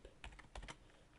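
Quiet, close keystrokes on a computer keyboard as CSS code is typed, a quick run of soft clicks with no talking.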